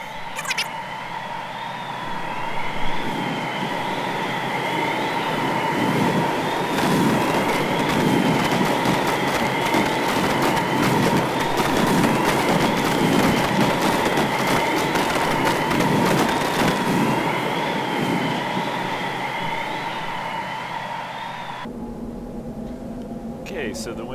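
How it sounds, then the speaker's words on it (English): Howling windstorm on an alien planet in Astroneer, a loud steady roar with whistling tones that builds and sustains for about twenty seconds, then cuts off abruptly near the end. "Oh, and that is a Windstorm."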